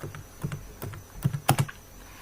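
Keystrokes on a computer keyboard while writing a C++ function, a sparse, irregular run of clicks with a tight double tap near the end, close and clear with no voice.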